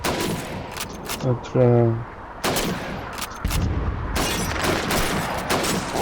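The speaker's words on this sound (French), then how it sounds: "Tirez sur ces bouteilles et ces assiettes." Gunshots fired at bottles and plates on a shooting range in Call of Duty 2, several loud, close single shots spaced apart, with a voice speaking briefly between them.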